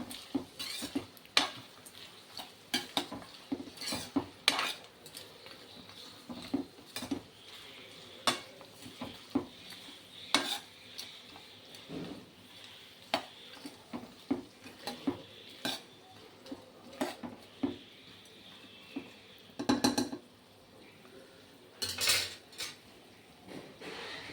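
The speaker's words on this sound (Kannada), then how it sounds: "ಈಗ ಇದನ್ನು ಚೆನ್ನಾಗಿ ಮಿಕ್ಸ್ ಮಾಡೋಣ" Shavige upma being mixed in a pan, with a long series of irregular spoon clanks and scrapes against metal, close but quiet, over a soft background hiss.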